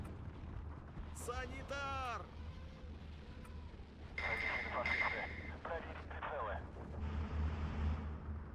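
Artillery shells landing in a WW2 real-time strategy game, Steel Division 2, on a Soviet campaign near Tiraspol: a few rumbling distant impacts and bursts over a steady low hum, with a voice speaking briefly between them.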